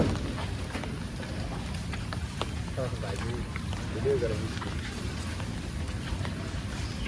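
Steady rain patters down at a riverside ferry landing in a constant wash of noise, with muffled voices briefly rising beneath it.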